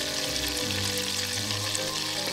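Butter and flour bubbling hard in a pan on high heat, a steady loud sizzle and crackle of frying that continues without a break.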